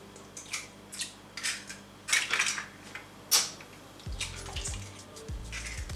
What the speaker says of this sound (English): First we'll crack the eggs into a large bowl.